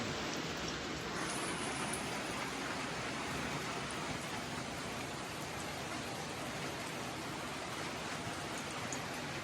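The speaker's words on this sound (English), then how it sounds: "came down to Florida, and we got a monsoon" Heavy monsoon rain pours down in Florida, a dense, even hiss that stays at one level from start to finish, with no voices.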